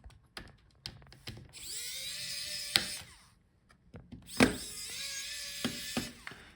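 A small screwdriver whirs in short bursts while unscrewing the fan of an Aorus 15G laptop, punctuated by light clicks and taps of screws and parts nearby, fairly quiet and close.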